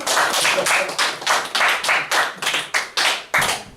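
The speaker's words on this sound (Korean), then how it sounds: "우리 준서가 박수 칠 때까지 다시 시작" Clapping from a Korean church congregation at Sunday worship starts again, mostly in loud unison beats at a steady, slightly uneven rhythm, with a few scattered hands between the main claps.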